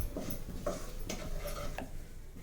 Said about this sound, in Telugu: అలాగే ఒక స్పూన్ ధనియాల పొడి హాఫ్ స్పూన్ జీలకర్ర పొడి ఇవి కూడా ఒకసారి వేపుకుందాం